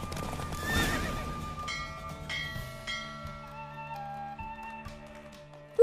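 In The Witcher 3, a horse lets out a loud neigh early on, then its galloping hooves clop on over ringing, bell-like game music that fades toward the end.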